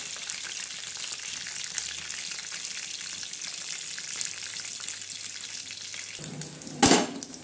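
Poha roasting in a hot pan gives a steady, close frying sizzle with light stirring, ending in a brief sharp clatter.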